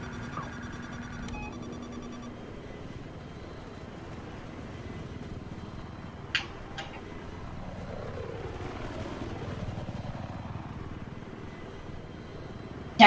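A helicopter flies in Battlefield 3, a steady rotor drone that swells and shifts as it passes, with a few sharp clicks partway through and a loud hit at the end.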